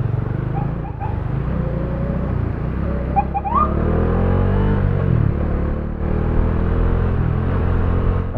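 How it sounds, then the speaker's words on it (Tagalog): Vehicle horns honk at riders on a wet road with a few short tonal blasts over the steady, loud rumble of engines and wind. "Kaya binubusinahan tayo"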